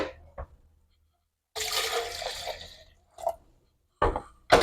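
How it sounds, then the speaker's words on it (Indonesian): Water is poured into a pot of sour spicy freshwater fish with lime leaves and bilimbi, a short splashing gush of about a second and a half, followed by a few small clinks and knocks. "Masukkan air sesuai selera ya teman-teman."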